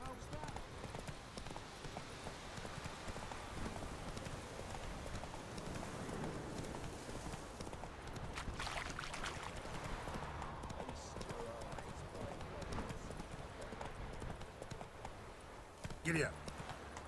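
Horse hooves gallop in The Witcher 3, a steady rhythmic clip-clop of a running horse mixed under background game music and ambience, with a brief louder burst near the end.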